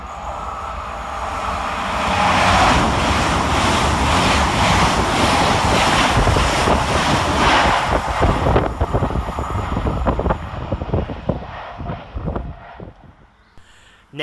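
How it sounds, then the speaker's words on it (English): An LNER class 801 train, unit 801228, passes Drem railway station, a loud rising roar of engine and rolling wheels sweeping close by, then breaking into rhythmic clattering of wheels over rail joints as it fades away. "Coming the opposite way for LNER is 801228, working 1 Sierra 15 from London King's Cross to Edinburgh Waverley."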